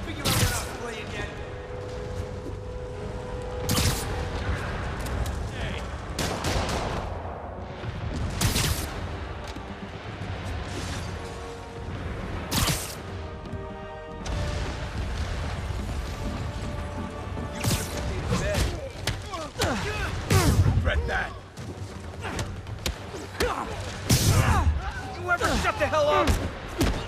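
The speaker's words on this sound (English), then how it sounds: "I guess bombs are part of Willie's getaway plan?" Bomb blasts in the Spider-Man Remastered video game, a series of loud booming crashes and thuds scattered across the scene over a busy, continuous game soundtrack, with someone talking throughout.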